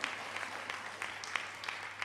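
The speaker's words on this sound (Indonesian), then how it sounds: "berikan tepuk tangan buat Tuhan kita" Congregation clapping during a church worship service, a steady wash of applause from many hands with a few sharper individual claps standing out, moderately distant and soft.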